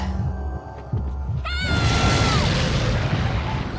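One sharp gunshot from Leon's gun in the video game Resident Evil 4, a loud boom that bursts in partway through and trails off into a long ringing, noisy decay, following low rumbling game sound.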